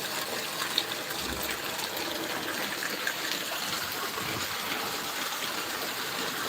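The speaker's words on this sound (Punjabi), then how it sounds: "ਉੱਧਰ ਦੇਖੋ ਪੰਤਾਲਾ ਪੂਰਾ ਜੋਰਾਂ ਸੋਰਾਂ ਨਾਲ ਚੱਲ ਰਿਹਾ" A steady, forceful torrent of rainwater pours from a roof drainspout in a Punjabi village while the street floods, a continuous close rushing and splashing with a couple of faint knocks, no voices.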